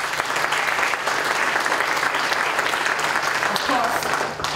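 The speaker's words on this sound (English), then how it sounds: "I think they deserve a round of applause" Sustained applause from an audience at a talk on Malaysian electoral reform, dense and steady throughout with a faint low hum underneath.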